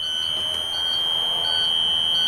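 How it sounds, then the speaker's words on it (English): A bus emergency exit buzzer drones shrill and continuous at a steady high pitch, sustained and unbroken, over a faint low background hum. "You hear that buzzer?"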